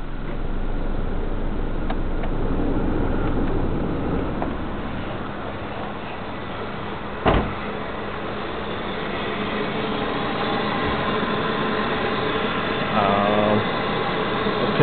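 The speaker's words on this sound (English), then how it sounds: "It seems to be idling just fine." A 1992–95 Honda Civic EG hatchback engine idles with a steady, low, muffled hum heard close by. One sharp click breaks in midway, and the drone shifts slightly later as electrical loads come on.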